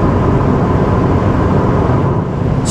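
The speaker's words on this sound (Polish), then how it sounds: "ten silnik mimo tak wysokich obrotów wcale nie pracuje głośno" Steady, loud interior drone of a Volvo V40 T4 petrol engine turning near 3500 rpm at highway speed, mixed with road and wind noise filling the cabin continuously, with no voices.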